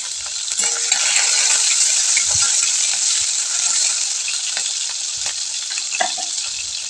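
Smashed potatoes with cumin, green chilies and curry leaves sauté in hot oil in a kadai on a gas stove, making a loud, continuous crackling sizzle with scattered sharp pops.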